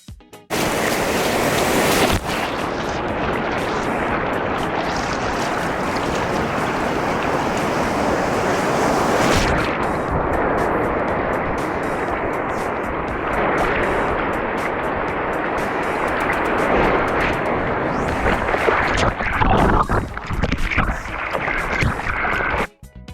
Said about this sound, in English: I actually left the sound on so that you could, really hear the power of the waves